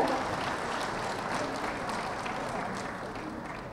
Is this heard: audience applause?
yes